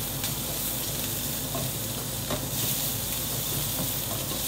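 Shrimp sizzle in a hot pan with cilantro, a dense, constant frying hiss that fills the whole clip. The spitting and crackle are close and steady, with no voices.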